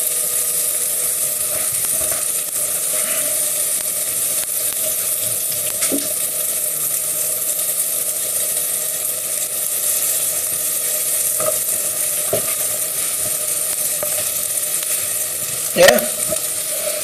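Two skinned, halved sausages frying in a pan for risotto give a steady, loud sizzle throughout, broken by a few light clinks and stirring scrapes and one sharper knock near the end.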